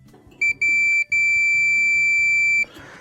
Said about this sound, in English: So I'm gonna put it on an audible reading, and you should hear a noise if the element is good.